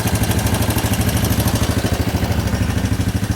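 A 1983 Kawasaki KLT 200C quad idles nearby with a steady, loud, rapid chugging beat that stays even from start to finish.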